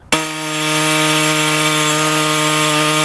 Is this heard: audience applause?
no